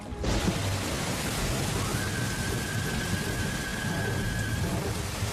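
Steady heavy rain pours throughout, with a low rumble of thunder rolling underneath; no voices.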